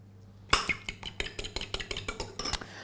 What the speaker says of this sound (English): I'm going to crack the eggs in the bowl. And I'm going to beat them.